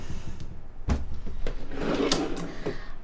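A kitchen drawer slides open with a wooden rumble and rattling contents. Several sharp clacks and knocks follow in quick succession, close by.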